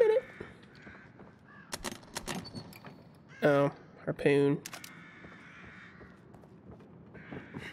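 Crows in the video game The Evil Within caw in two harsh clustered calls amid scattered clicks and rustles, while someone speaks briefly over the game sound.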